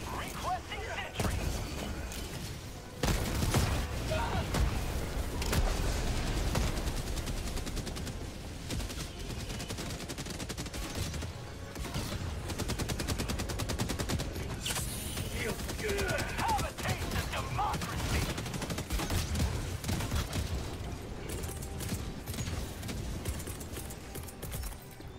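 Sentry turret and mortar fire in Helldivers 2 crackle in dense, distant-sounding bursts and booms across a long battle, with players talking over the combat throughout.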